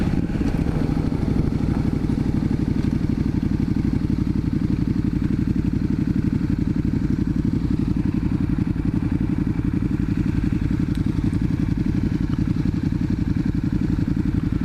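A V-twin motorcycle engine, a KTM 1290 or an Indian FTR 1200, idles steadily up close with a low, even burble that runs without a break for the whole stretch and has no talk over it.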